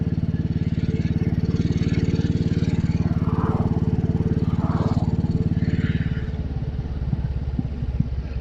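A Royal Enfield Bullet 500 with a sidecar idles close by in a steady, loud, thumping single-cylinder rhythm. The beat loosens slightly near the end, and faint voices can be heard in the background.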